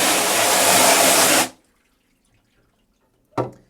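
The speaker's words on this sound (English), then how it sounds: "Now, I like to use just lukewarm water, just standard tap water, and then basic pressure." A screen printing screen is rinsed with lukewarm tap water at gentle pressure: a loud, steady rush of spraying water runs for about a second and a half, cuts off to near silence, then a brief splash follows.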